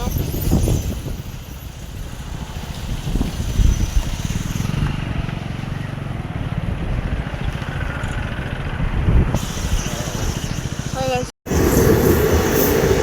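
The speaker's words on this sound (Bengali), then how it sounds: "ফারাক্কার ওপর দিয়ে ট্রেন যাচ্ছে" A train crossing the Farakka bridge over the river, a loud, continuous rolling rumble with rhythmic wheel clatter and some squeal, heard close by. People talk over it, and the sound cuts out briefly near the end.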